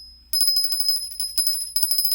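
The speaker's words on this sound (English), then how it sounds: "I'm going to get my bell ready to go. In fact, I'm going to go ahead and ring it now." A hand bell rings continuously in a rapid, bright, tinkling shake, close and loud, with no talking.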